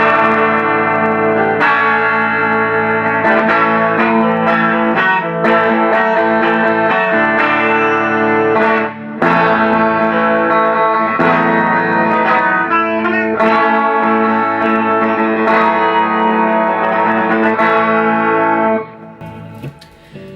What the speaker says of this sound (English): there's still that bell sound that is very usable, especially for 12-string